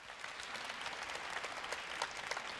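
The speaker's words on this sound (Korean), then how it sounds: "박수 부탁드립니다" A studio audience claps during a live broadcast. The applause is fairly faint but continuous, a crackly patter of many hands with no one speaking over it.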